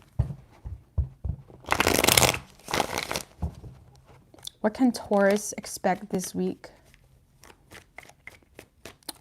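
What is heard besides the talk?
shuffling tarot cards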